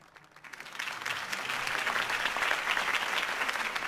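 A crowd breaks into applause after Harvey Dent's campaign speech in Batman: The Telltale Series, swelling from a quiet start into steady, dense clapping that holds at moderate loudness.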